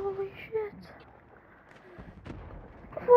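Several grenade explosions in the Call of Duty video game, with deep booming blasts arriving in quick succession amid game noise and voices.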